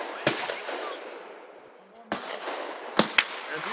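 An AR-15 rifle with peep sights fires four sharp shots outdoors, one near the start, one about two seconds later and a quick pair close together at the end, with a voice briefly audible between.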